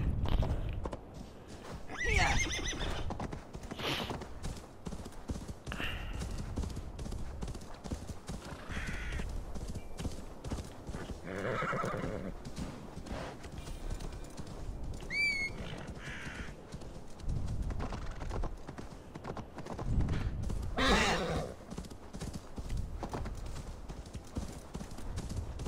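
Hooves clip-clop at a steady trot in Assassin's Creed Valhalla, broken by a few sharp horse neighs, with faint ambient sound underneath.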